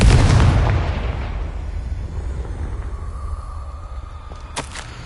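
Confringo fire spell from the Hogwarts Legacy video game, a loud booming blast at the start that rumbles and decays over a few seconds, followed by a faint sharp crackle near the end.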